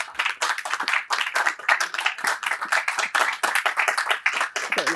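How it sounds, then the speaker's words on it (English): Warm round of applause for a couple's diamond wedding anniversary, dense steady clapping from a small indoor gathering, close and continuous throughout. "with a round of applause, we'd like to give you a little something as well"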